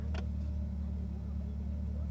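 A Corvette race car engine idles with a low, steady burble, heard close from inside the cabin and constant throughout, with a brief click near the start.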